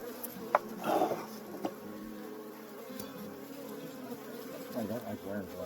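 Honeybees buzz around an open hive during a spring inspection, a steady nearby drone with a few sharper passes close by and light handling noises.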